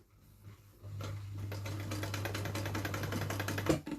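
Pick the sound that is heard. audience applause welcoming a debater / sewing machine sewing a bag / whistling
sewing machine sewing a bag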